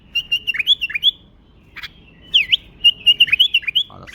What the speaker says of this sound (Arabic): هذا البلبل اللذيذ، علافته